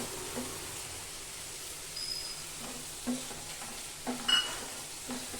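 Dried fish (shutki) being added to spice masala frying in a pan, a soft steady sizzle with a few light stirring scrapes and brief clinks, moderately quiet and close, no talking.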